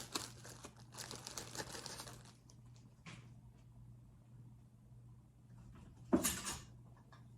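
Brussels sprouts, chopped small onion and garlic cloves are shaken and mixed inside a plastic bag, giving close crinkling and rustling for about two seconds, then a quiet stretch with a brief rustle and a final loud crumpling burst.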